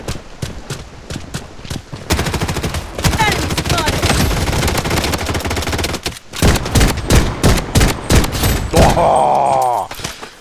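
Rapid bursts of automatic gunfire in the shooter game Project Blood Strike, loud and close, with dense volleys, brief pauses and a reload-like clatter near the end.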